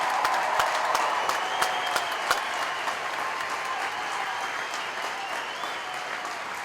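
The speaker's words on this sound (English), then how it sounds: "please join me in applauding these military training instructors." A large audience applauds military training instructors at an airmen graduation ceremony, a steady, dense roar of clapping that holds evenly throughout, with a few sharper claps standing out near the start.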